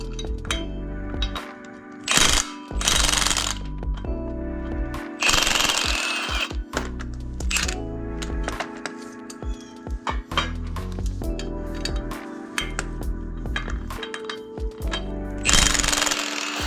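A power tool hammers away at a car bolt in loud, close, rattling bursts that start and stop, with metallic clanks between them.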